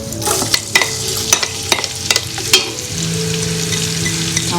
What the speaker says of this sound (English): And I'm going to fry the onions.